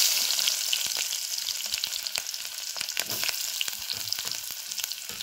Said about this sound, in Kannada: ಎಣ್ಣೆ ಹಾಕಿ ಬಿಸಿಗೆ ಅದ. ಈಗ ಇದಕ್ಕೆ ಉಳ್ಳಿಗಡ್ಡಿ ಹಾಕೊಳ್ಳೋದು.